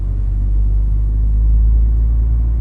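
1990 Volkswagen Golf 2 GTI engine pulling from about 1000 rpm in fifth gear, a loud, steady low rumble that swells slightly as it accelerates, heard from inside the car.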